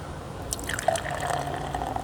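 Oktoberfest beer is poured into a glass, giving a close, bubbling liquid trickle with small splashes and a rising fill tone, clear and unaccompanied by talk.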